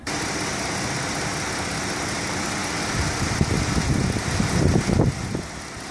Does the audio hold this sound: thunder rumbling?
no